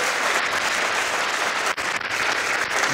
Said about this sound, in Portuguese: Quer dar mais uma salva de palmas para o Espírito Santo?